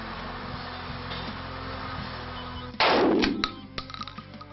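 A single loud gunshot from a guard's gun rings out over a steady background hum, followed by a few fading metallic echoes and clinks.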